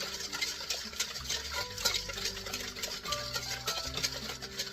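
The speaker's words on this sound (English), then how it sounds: "Mix it well." Bean salad mixed with white sugar in a bowl gives a soft, wet stirring and scraping, a continuous quiet churning with faint clinks of the utensil, and no talk.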